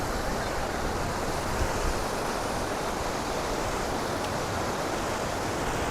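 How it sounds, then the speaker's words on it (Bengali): Sea waves on Mandarmani beach, a broad, continuous roar of surf mixed with wind buffeting the microphone, steady and loud with no distinct breaks. "আর এই হলো সমুদ্র, মন্দারমণির সমুদ্র, দারুণ।"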